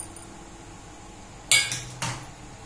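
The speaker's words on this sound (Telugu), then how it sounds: "ఒకసారి గిన్నెని ఊపితే కలుపుతా" A metal bowl of freshly drained chicken noodles is shaken to mix them, giving two or three sharp clanking hits about half a second apart against a quiet kitchen background.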